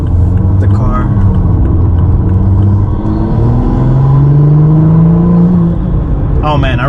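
A BMW with a B58 engine and CTS turbo intake drives along with a steady, loud engine rumble and a rising pull of intake tone midway, heard from inside the cabin with no talk.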